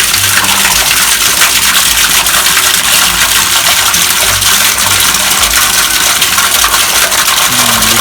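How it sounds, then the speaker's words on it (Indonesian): Water rushes out of an opened pipe in a simple fish pond filter chamber, with debris flushing through the bottom drain line. A loud, close, continuous gushing roar keeps a steady level throughout. "Kita akan siram dulu dengan cara kita buka saja ini sambil membersihkan kotoran yang tersangkut di dalam pipa ini"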